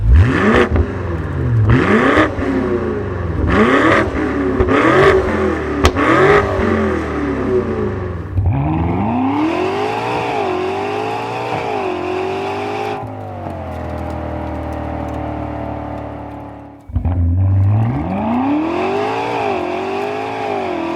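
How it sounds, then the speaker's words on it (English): Twin-turbo V8 of a BMW G90 M5 with Valvetronic exhaust revving loudly nearby: a string of sharp repeated blips, then longer sustained pulls and a final rev, with no talking. "this is a twin turbo V8 M5. Let's hear how it sounds with the VALVETRONIC exhaust."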